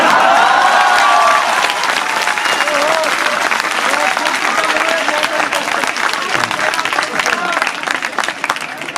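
Sustained audience applause fills a Hindi comedy poetry show (hasya kavi sammelan), broad and steady clapping throughout, with a voice briefly audible near the start amid the crowd noise.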